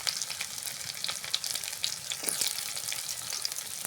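Chopped garlic, onion and green chillies fry in hot oil in a wok, making a dense, continuous crackling sizzle with small pops, heard up close with no voices.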